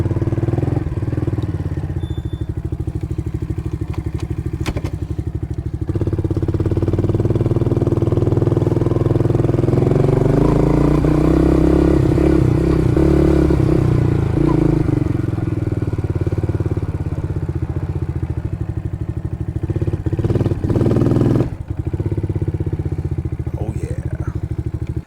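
A Kayo Bull 125 EFI kids ATV engine runs steadily during a slow backyard ride, a medium buzzing drone that rises and dips with throttle, close and continuous, with a brief lull near the start.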